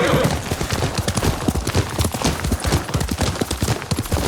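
Horse hooves clip-clopping in Ghost of Tsushima, a steady rapid run of close, loud hoofbeats alone, with no talk over them.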